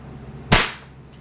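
A single sharp crack from an EMG Pit Viper airsoft pistol firing once, loud and close, with a brief decaying tail and no speech.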